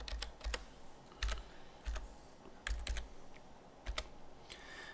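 Fingers tap out a password on a computer keyboard, soft close clicking keystrokes in small irregular clusters over a low background hum, with no talking.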